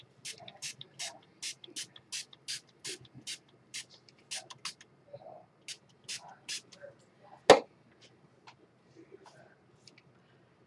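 Short, repeated hissing bursts of spray paint in a quick rhythm, followed by scattered quieter sprays and one sharp knock, with faint talking in between.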